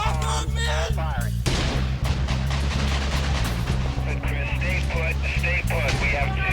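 Gunfire crackles during a police shootout with a building, captured in live news footage, as repeated sharp shots and pops cut through loud, continuous voices and radio chatter.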